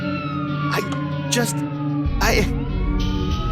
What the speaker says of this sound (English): Police sirens blared in the background.